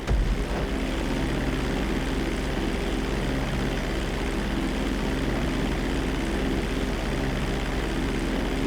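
A steady, loud propeller-plane engine drone in GTA 5 as the aircraft climbs airborne during a flight lesson, holding a constant roar with no talk.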